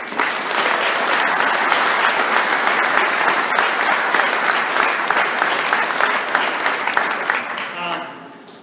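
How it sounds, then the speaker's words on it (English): A large crowd applauds loudly and steadily for several seconds, with dense overlapping claps that taper off at the end. "I'm going to lead a round of applause"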